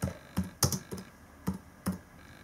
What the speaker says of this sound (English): just type in